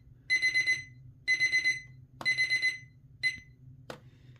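A digital alarm clock beeps in rapid bursts of four, repeating several times up close, then a couple of clicks as it cuts off.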